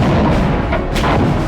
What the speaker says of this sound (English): The guns blasted away.